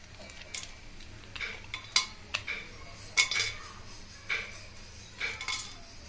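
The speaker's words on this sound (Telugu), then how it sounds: "ఇప్పుడు మనం బిర్యానీ సామాన్లన్నీ కూడా ఒక్కొక్కటిగా వేసుకోవాలి" Whole biryani spices dropped one by one into hot oil in a pressure cooker, heard as sharp metallic clinks and taps of a spoon against the pot over a faint, low background sizzle, with no talking.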